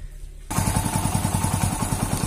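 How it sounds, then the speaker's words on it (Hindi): A Hero Splendor Plus motorcycle engine starts during a carburettor air mixture screw adjustment: quiet, then it catches abruptly and settles into a close, steady, rapid single-cylinder putter with no talking. "बाइक स्टार्ट हो चुका है"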